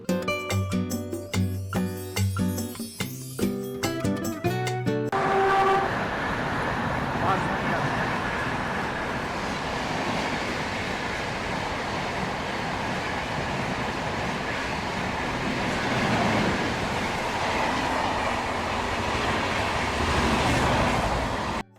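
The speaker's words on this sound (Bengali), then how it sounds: "প্রায় রাইট টাইম 12টা 25-এই আমাদের ট্রেন আহমেদাবাদ জংশন থেকে ছেড়ে দিল" After a few seconds of music, the Ahmedabad–Howrah Express departing Ahmedabad Junction rumbles along steadily at about 100 km/h, with continuous wheel and carriage noise, loud and close from inside the coach.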